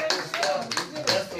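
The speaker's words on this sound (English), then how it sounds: "Let's give everybody a round of applause." A small class claps in a prison ministry session, a few scattered, uneven claps and taps in short bursts close by, mixed with talk.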